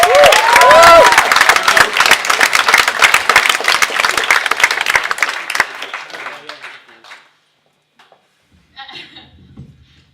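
Loud audience applause and cheering at a live comedy show, dense clapping with whoops up close that swells then fades out around seven seconds, followed by a short burst of murmur and laughter.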